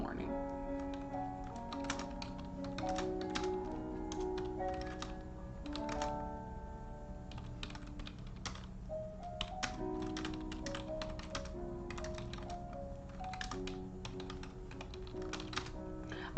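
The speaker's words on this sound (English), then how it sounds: "Excuse my typing." Steady computer keyboard typing with quick irregular key taps, close and continuous throughout, running under background music with a person's voice at times.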